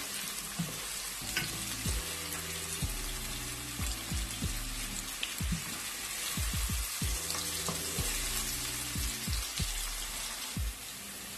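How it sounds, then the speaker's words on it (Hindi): Chopped onion sizzles steadily in hot oil for an Arabic-style mutton mandi, with occasional stirring clacks over a continuous crackle and quiet music in the background. "ऑयल गर्म हो गया है, इसमें एक अनियन डाल ली चॉप। इसको मैं लाइट गोल्डन ब्राउन कर रही हूँ"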